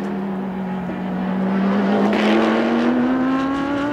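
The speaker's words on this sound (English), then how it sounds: "we've also got the DriveX Audi back out on the circuit again at the moment" An Audi GT race car driven at the Paul Ricard circuit in France during 24-hour race qualifying accelerates past, its loud engine note climbing steadily in pitch and growing nearer over a few seconds.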